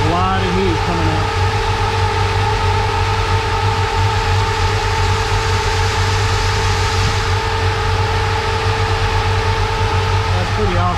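Electric cooling fan with a large motor running on a custom 1955 Chevy, a steady loud whirring drone with strong constant hum tones throughout, under faint talk.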